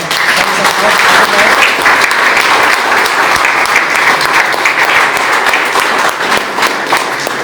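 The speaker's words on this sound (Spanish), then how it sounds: "Vamos a aplaudir a él" A church congregation applauds during a Spanish-language sermon on walking in the supernatural, a loud, dense, continuous wash of clapping that holds steady for the whole stretch with faint voices mixed in.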